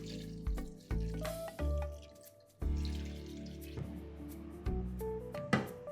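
A little water is added to a coq au vin braise in the pot, a short splashing pour with a few drips amid kitchen clatter and tonal background sound.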